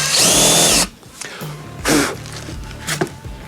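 Power drill boring a small pilot hole and then a countersink into wood paneling inside a van conversion, a loud whirring burst followed by two shorter drill bursts with quiet handling sounds between.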